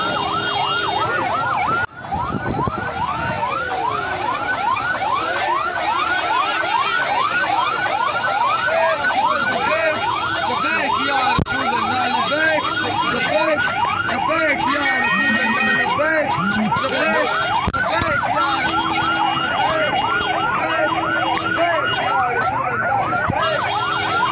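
Ambulance arriving at a graveyard, its siren wailing continuously in rapid, repeating up-and-down sweeps, loud and close for the whole stretch over a dense background of crowd noise.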